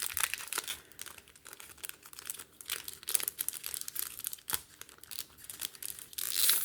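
Plastic trading card pack wrapper crinkling and tearing in short, sharp bursts, opened with gloved hands, close up and fairly quiet, with no voices.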